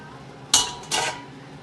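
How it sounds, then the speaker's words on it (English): Spaghetti stirred into bolognese sauce in a pan, heard as two quick clattering scrapes of a utensil against the pan, close and brief, against quiet background. "So I'm going to put my spaghetti in with my bolognese sauce. In it goes. Give that a nice little stir around."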